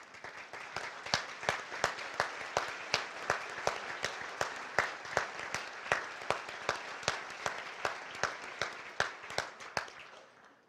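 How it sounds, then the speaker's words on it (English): Banquet guests at a fire division awards dinner clap in a steady, evenly spaced rhythm, many hands striking in unison for award recipients, sustained for about ten seconds before fading. "so you can get your round of applause"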